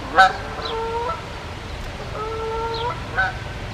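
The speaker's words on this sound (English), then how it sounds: "there's a goose going over" A goose honks while flying overhead in a garden, two clear calls a few seconds apart, the second pair drifting as the bird passes, over quiet outdoor background.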